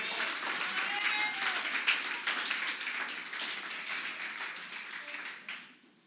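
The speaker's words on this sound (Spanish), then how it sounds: "Dale un aplauso al Rey si puede," Church congregation applauding, a fairly loud spread of many hands with a few voices mixed in, gradually thinning and fading toward the close.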